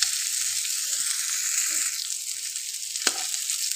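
Beef tikka fries in ghee on a flat tawa and gets turned over. A steady, close sizzle with crackling continues throughout, and a single sharp clink of a utensil sounds near the end.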